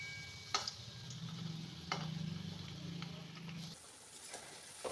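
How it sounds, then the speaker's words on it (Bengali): Bora fritters sizzle in hot oil as they fry on their second side until red, a steady crackling hiss with a few sharp ticks and scrapes from turning, and no one speaking. "এরপর আর একটা পিঠ খুব ভালো করে এরকম লাল করে ভেজে নিতে হবে"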